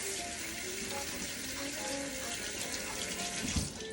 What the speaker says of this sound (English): I'm constantly gotta wash my hands because I'm dealing with meat